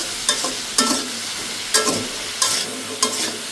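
Fish and vegetables with ground spices are stir-fried in a wok: five rhythmic, close scraping strokes of a spatula over a bright, continuous sizzle.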